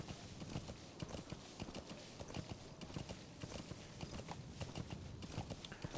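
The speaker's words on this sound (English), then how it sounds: "They will still get suspicious of of you riding your horse side saddle if you get too close." A horse's hooves clip-clop at a steady walking rhythm in the video game Metal Gear Solid V: The Phantom Pain, close and continuous over faint ambient background, with no talking.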